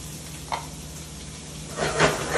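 Onions and peppers cooking in a pan for a chorizo breakfast burrito give a steady low sizzle close by, swelling briefly into a louder hissing burst near the end.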